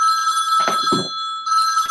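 A telephone bell rings in loud, bright bursts with brief gaps between rings, heard clearly with no talking over it.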